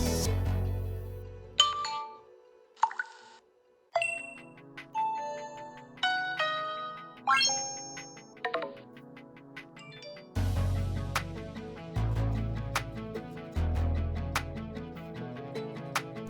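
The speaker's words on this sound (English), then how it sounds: "You may also change the notification sounds." Notification tones from the Eufy IndoorCam app for a Eufy Solo IndoorCam P24, a sequence of different chimes, dings and ringtone melodies played one after another, each a bright bell-like tone, close and clear with no talking.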